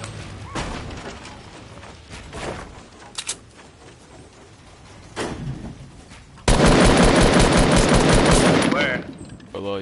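Bursts of gunfire in a battle royale video game: scattered shots early, then a loud, sustained automatic burst in the last few seconds, with players talking over parts of it.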